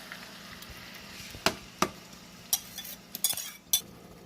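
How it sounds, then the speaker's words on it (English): Onion toasts in a pan for a plantain porridge. A faint, steady sizzle runs underneath several sharp clinks and scrapes from a utensil against the pan. "Toast your onion just for 60 seconds"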